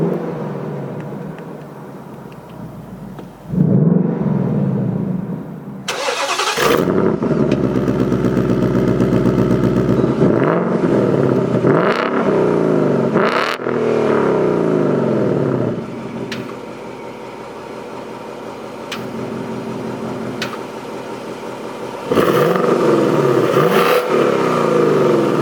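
A 2018 Ford Mustang GT Premium V8 exhaust set to quiet mode, heard nearby as a muted burble with several sharp revs that rise and fall and a steadier idle between, with no talking.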